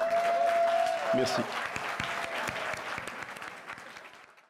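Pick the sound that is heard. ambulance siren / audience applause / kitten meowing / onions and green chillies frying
audience applause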